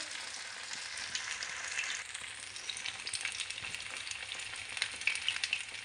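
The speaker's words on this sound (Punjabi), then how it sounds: "ਚਲੋ ਜੀ ਆਪਾਂ ਇਹਨਾਂ ਨੂੰ ਚੰਗੀ ਤਰ੍ਹਾਂ ਫਰਾਈ ਹੋ ਲੈਣ ਦਿੰਦੇ ਹਾਂ" Leftover rice snacks fry in a pan of hot oil, giving a steady, close, dense sizzle with fine crackling pops throughout and no talking.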